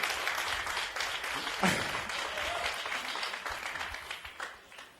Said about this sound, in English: You can have a round of applause for NjaL for a great interview.